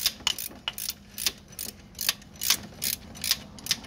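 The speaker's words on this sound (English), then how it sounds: "Use the ratcheting spanner for this one." A ratcheting spanner working a water pump bolt on a Mercedes W123 diesel, giving repeated quick metallic clicks in short bursts, fairly close and fairly quiet, with no talking.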